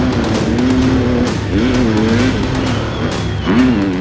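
A KTM enduro motorcycle ridden by Josep Garcia splashes through a water section on a wet, slippery course into a left-hand turn, its engine loud, close and steady with rising and falling revs throughout.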